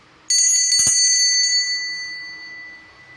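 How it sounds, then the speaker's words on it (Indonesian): A single bright bell rings once with a sharp strike, its shimmering tone slowly fading over a few seconds in a quiet room. "kartu di kiri ditandai dengan bunyi tanda lonceng berbunyi"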